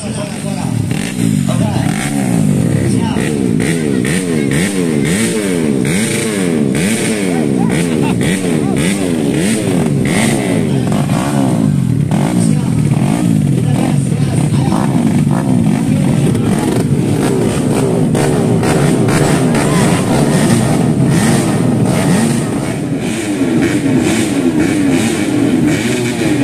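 A motorcycle engine revs repeatedly in rising and falling surges, loud and close, with voices talking over it throughout.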